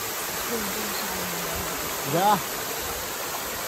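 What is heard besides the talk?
waterfall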